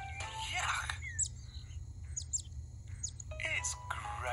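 Small cartoon birds chirp in a Kipper animation, short high tweets scattered through the middle over a steady low hum, with a voice speaking before and after.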